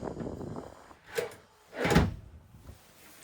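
A few wooden thuds and scrapes as a drawer slides open and shut twice, close by, with quiet room sound between, inside a 2026 Montana High Country 311RD fifth-wheel trailer.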